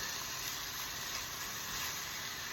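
Asian-style beef short ribs sizzle in a frying pan, a steady, even hiss of hot fat with no pauses and no voices.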